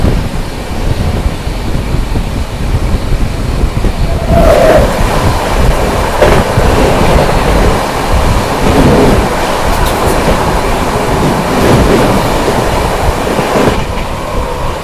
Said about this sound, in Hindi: यहाँ पर दोस्तों सामने से आ रही है सीतामढ़ी आनंद विहार लिच्छवी एक्सप्रेस आती हुई